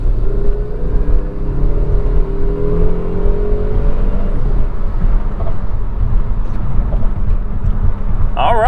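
A Saab 9-5 Turbo on a test drive after a MAF sensor swap: a steady, loud engine drone with road rumble, pitch sweeping up as it accelerates through the gears.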